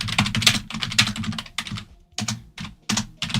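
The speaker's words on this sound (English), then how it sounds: "I feel like I'm just clicking too fast" Rapid computer keyboard typing, close and loud, in quick bursts of clustered key clicks separated by short pauses, with no talk.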